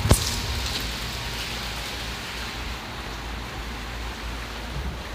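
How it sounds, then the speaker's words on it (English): Steady rain pours down during a severe thunderstorm in Dalton, a dense, continuous hiss at a constant level after a brief sharp knock at the start, with no talking. "the rain's starting to calm down a little bit"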